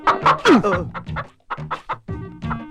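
A hen clucks repeatedly up close in a house, a rapid run of short, choppy calls with a brief pause before the clucking resumes.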